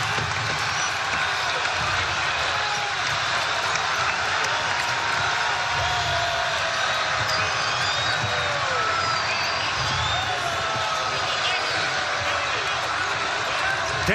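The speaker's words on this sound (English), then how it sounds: "Crowd on their feet." A dense basketball arena crowd roars and cheers continuously at a Nevada vs UNLV college rivalry game, loud and sustained with whistles and shouts rising through it, and a commentator talking over the noise.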